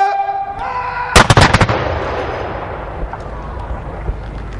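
Artillery guns firing in indirect mode at an ABF gun show, a loud close burst of several rapid blasts after a spoken command, then a long rolling echo fading away.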